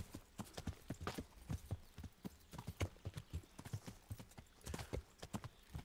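Horse hooves clip-clop in steady rhythm while riding in the video game Kingdom Come Deliverance, close and clear with no talk over them.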